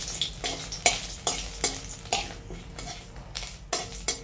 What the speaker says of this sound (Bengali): তেজপাতা, শুকনো লঙ্কা দিয়ে দিলাম, ভালো করে হোক ফোড়নটা।